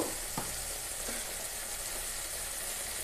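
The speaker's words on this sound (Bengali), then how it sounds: "একটু মশলাটাকে কষাচ্ছি" Mustard and green chili masala frying in a pan for a hilsa fish dish, a steady soft sizzle with a couple of faint stirring scrapes, close and alone.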